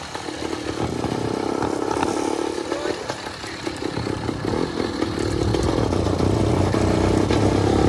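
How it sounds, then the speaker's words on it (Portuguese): A 100cc two-stroke engine on a motorized bicycle, still being broken in, runs with a buzzing, rattling drone that rises and steadies, heard close with some voices in the background. "esse motor aqui eu tô amaciando ainda"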